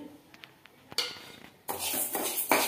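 Half a tumbler of split moong dal dropped into a hot, dry kadai and dry-roasted for kodo millet pongal: a few light metallic clinks, then a loud, steady rattling sizzle of lentils scraped around the pan.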